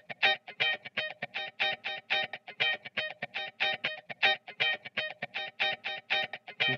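A dry, reverb-free electric guitar line playing a quick, steady rhythm of short, clipped, gritty plucked notes, evenly repeated throughout with clean gaps between them and no voices.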